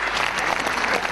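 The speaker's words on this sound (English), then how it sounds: "Please join us in welcoming the Prime Minister of Pakistan, Mr. Shehbaz Sharif, with a huge round of applause." A crowd at a Commonwealth Asia Youth Alliance ceremony applauds steadily, welcoming the Prime Minister of Pakistan, dense clapping filling the whole moment with no pauses.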